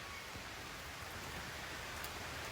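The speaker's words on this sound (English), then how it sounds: "Woo! It's raining." Heavy rain falls in East Haven as a steady, dense wash of hiss with no breaks, fairly loud and even, no voices heard.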